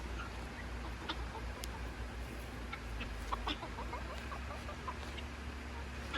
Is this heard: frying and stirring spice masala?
no